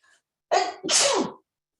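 A single close sneeze: a sharp intake followed by a loud, breathy burst, then silence.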